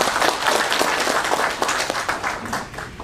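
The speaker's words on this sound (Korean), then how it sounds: "큰 박수로 환영해 주시면 감사하겠습니다" Audience applause fills an award ceremony for the Nogeun-ri Peace Prize, a dense, steady wash of many hands clapping for about three seconds with no voices on top.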